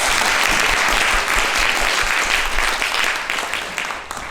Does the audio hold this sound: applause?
yes